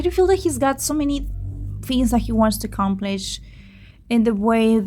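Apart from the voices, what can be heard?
None of the usual background noises is heard.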